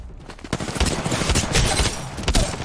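Gunfire in a first-person shooter game, a rapid burst of automatic shots that continues steadily for a couple of seconds, loud and close without talk.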